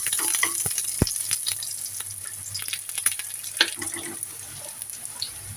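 Garlic frying in oil for okra bharta, a steady hissing sizzle with scattered crackles and a couple of sharp spoon clicks against the pan.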